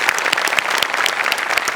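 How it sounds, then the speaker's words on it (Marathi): Studio audience at a Marathi comedy show breaking into loud, dense applause, continuous clapping from a large crowd close and even throughout. "येस, जोरदार टाळ्या."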